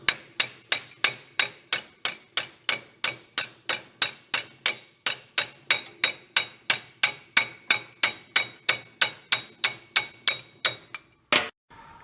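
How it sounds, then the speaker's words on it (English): A hammer taps a Bobcat's brake master cylinder in a steady, even rhythm, about three sharp metallic strikes per second, close and ringing, for roughly eleven seconds before a short pause and one last tap. "let's go try tapping that with a hammer real quick."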